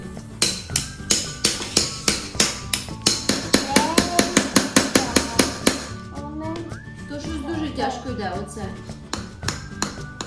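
In a dinosaur excavation video game, a hammer taps rock in a fast, even series of sharp metallic knocks, then slower scattered taps follow while voices talk.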